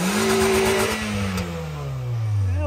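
A Toyota Yaris engine revs hard while warming up on a farm, a close, loud rising whine that holds and then slowly falls away as the throttle eases.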